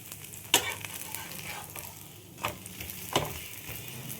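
A dosa-like breakfast batter sizzles gently in a pan over low heat, a steady soft frying hiss broken by a few scraping stirs of a utensil.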